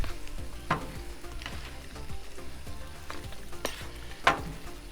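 Plant-based egg sizzles steadily on a hot griddle during hibachi-style fried rice cooking, a continuous close frying hiss broken by a few sharp spatula scrapes and taps, the loudest near the end, with no talking.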